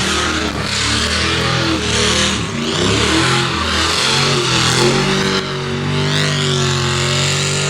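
A 472 cubic inch LSA methanol speedway engine at Waikaraka Park revs hard and loud up close, its roar climbing and dropping in repeated surges without a break.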